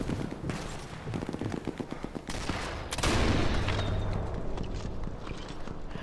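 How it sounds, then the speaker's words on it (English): Enemy gunfire in Sniper Elite 4 crackles in a quick series of sharp shots, then swells into a louder, denser volley that keeps rattling on. "Guy over there shooting at me?"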